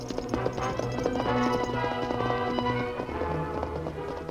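Horse hooves clip-clopping steadily at a run, a radio-drama effect for Tonto riding his horse Scout, loud and rhythmic over a bed of dramatic orchestral music.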